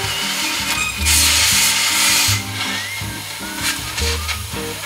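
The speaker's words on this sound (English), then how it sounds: "Now we gotta cut the whole housing out around." A power cutting tool grinds steadily through the exhaust housing of a 1928 Ford rat rod, a loud continuous harsh metallic rasp that swells and eases in pitch as the cut progresses.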